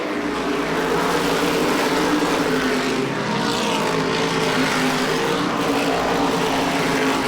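Modified race cars at Lee USA Speedway roar past nose to tail on a cold track: a loud, sustained engine drone that rises and swells as the field passes, with no break in the noise.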